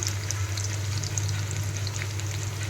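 Onions fry in a pan with a steady, loud sizzle and a constant low hum, occasional stirring scrapes sounding under the hiss.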